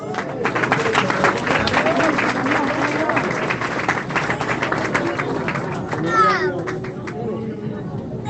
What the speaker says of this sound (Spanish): Bríndele fuerte aplauso